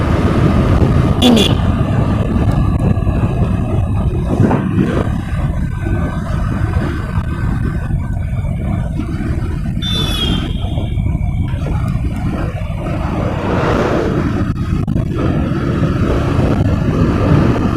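A Bajaj Pulsar motorcycle rides along a highway at roughly sixty to seventy, giving a constant loud engine drone mixed with heavy wind rush, with faint voice fragments beneath.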